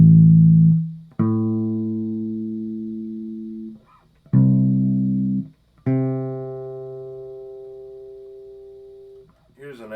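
Bass guitar sounds a perfect octave, the same note doubled in pitch, as a few separate sustained plucked notes, each ringing and slowly fading, alone and up close.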